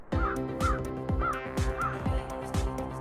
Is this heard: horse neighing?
no